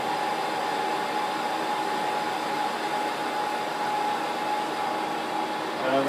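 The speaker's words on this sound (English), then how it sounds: "Spindle is running." The spindle of a Schaublin SV52 milling machine runs after reassembly, giving a steady, loud mechanical whir with a constant tonal hum and no change in speed.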